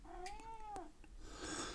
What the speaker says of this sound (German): Jetzt kommt der dicke Kater.